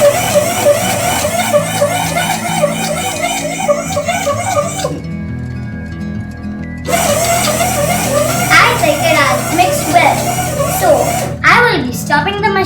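A Clearline dough maker machine mixes dough with a steady, buzzing motor drone that cuts out briefly and then resumes, while a person talks over it close by.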